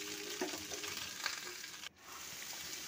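Cauliflower fried on a medium flame gives off a steady, hissing sizzle with faint stirring clatter. The sound breaks off briefly near the end, then returns.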